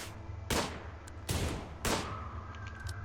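Three sharp bursts of gunfire in the colony game Rimworld go off at roughly even intervals in a quiet scene, each a loud, crisp crack that fades fast, with faint softer clicks between them.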